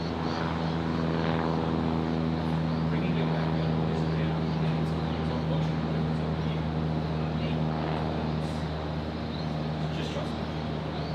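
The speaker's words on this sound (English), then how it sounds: "it's a 2005 model Cessna 172S" A 2005 Cessna 172S light aircraft from a flying school at Gold Coast Airport gives a steady propeller-engine drone for the whole stretch, fairly loud and constant, with people talking over it.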